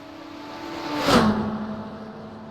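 A GTP prototype race car in iRacing at Virginia International Raceway sweeps past in a single quick whoosh, building briefly to a peak and fading, over the steady engine hum of the player's GT3 car.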